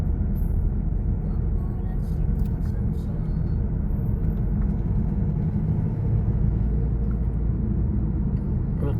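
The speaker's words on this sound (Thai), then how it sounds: "รถติดยามแรงเวียงจันทน์บ้านเฮา" Evening rush-hour traffic in Vientiane, Laos: a steady, dense rumble of car and bus engines close by, with a voice talking over it.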